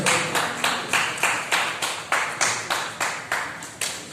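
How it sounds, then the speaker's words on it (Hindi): Loud rhythmic group clapping at a community welcome event for a Ram Mandir silver brick donation, about a dozen strong even claps repeating steadily and close, with no talk over them. "जोरदार तालियां।"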